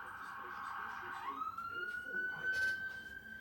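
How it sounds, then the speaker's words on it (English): An emergency siren passes outside, with a sustained tone that drops and then glides into a steady wail, over a quiet indoor room background. "Someone likes playing around with the sirens there. What sort of a siren's that?"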